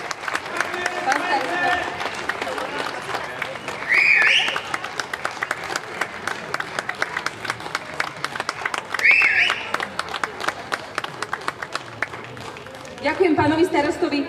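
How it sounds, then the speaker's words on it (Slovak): An audience at the closing of the Goral folk festival in Skalité, Slovakia, applauds with steady, dense clapping from a large crowd. The clapping runs continuously under and between a woman's amplified speech, with a few brief louder swells. "dúfam, že ešte teraz na záver váš potlesk"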